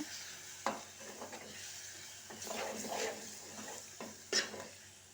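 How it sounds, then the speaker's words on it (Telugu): Potato tomato curry being stirred in a pan with chili powder added, giving soft scraping and mixing strokes over a light sizzle, with a few sharper spoon knocks against the metal, close by and with no talk. "ఇలా ఇవన్నీ వేసుకున్న తర్వాత మంచిగా కలిపేసుకోవాలన్నమాట"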